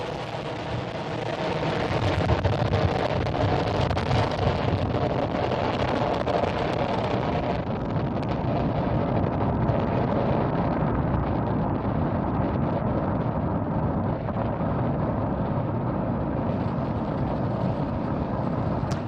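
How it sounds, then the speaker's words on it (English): A SpaceX Falcon 9 rocket lifting off at night carrying Starlink satellites: a continuous, heavy broadband roar that holds steady and loud throughout, with no talking. "It is dark, but we can definitely hear Falcon 9."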